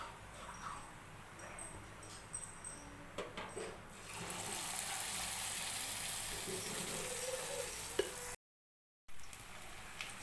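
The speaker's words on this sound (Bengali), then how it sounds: "সব বড়াগুলো এইরকমভাবেই ভেজে নেব।" Lentil fritters (daler bora) frying in hot oil, a steady close hiss and crackle of sizzling that swells midway, with faint occasional clinks and a brief dropout near the end.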